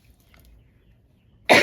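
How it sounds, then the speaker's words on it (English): A single short, sharp throat clear bursts out at the very end after near silence, close and fairly loud. "Clear my throat so I can talk a bit louder."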